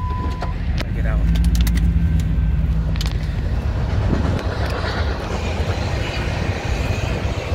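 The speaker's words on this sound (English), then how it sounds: "now you get to see the South Shore Freight" A South Shore Freight train rolls past, a loud continuous rumble of rail cars with metallic squeals and clanks, heard from inside a truck with people talking.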